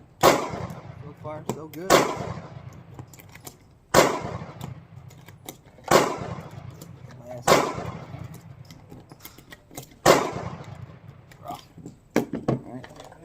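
Sig Sauer P365 pistol firing Blazer 115 grain ammunition on a range, six sharp, loud shots spaced about two seconds apart, with a person talking briefly between them.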